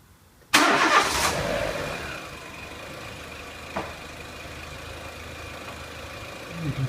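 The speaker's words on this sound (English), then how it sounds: "what we're going to do is start the vehicle up" Renault Clio 1.6 petrol engine cranks and catches with a loud burst, then settles into a steady idle with a brief mechanical blip partway through; no talking.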